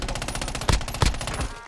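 Rapid automatic gunfire from Warzone, a steady stream of shots with a couple of heavier booming hits, loud and close.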